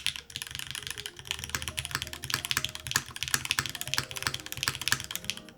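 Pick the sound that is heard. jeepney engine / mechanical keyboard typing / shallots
mechanical keyboard typing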